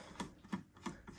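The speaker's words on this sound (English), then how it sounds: "So let's unscrew this custom" A custom storage screw on a yarn winder is turned loose, giving three faint, evenly spaced clicking ticks, close and quiet with nothing else heard.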